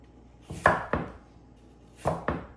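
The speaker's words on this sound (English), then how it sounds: "after I core the apple, I cut it in half and then into quarters" A knife cuts through an apple on a cutting board in four crisp chops, two quick pairs close together, each ending in a thud on the board, with no talking.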